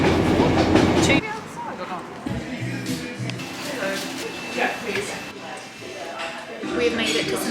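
Train rolling along rails in Cornwall on the way to St Ives, a steady rumble with faint clickety-clack, a loud burst at the start, then lighter rattling under intermittent talk.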